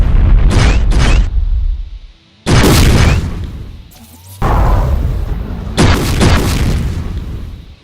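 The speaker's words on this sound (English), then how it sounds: "It also fires the heavy railgun shots." Heavy railgun shots from a Mastermind enemy in a DooM mod: several loud, booming blasts in bursts, each with a sharp crack and a rumbling tail, separated by brief gaps.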